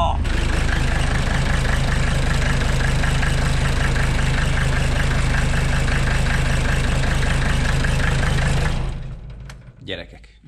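A Mercedes W123 300 Turbodiesel idles loudly right after starting, a dense, rough, knocking diesel clatter that runs steadily for about nine seconds, then cuts out and fades.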